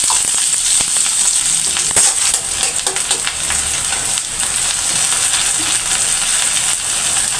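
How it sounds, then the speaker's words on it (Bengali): Green chilies and chopped onion sizzle steadily in hot oil in a wok, a loud, continuous close-up hiss with occasional light clicks and scrapes from stirring, and no talking. "কাঁচামরিচগুলো দিয়ে দিচ্ছি।"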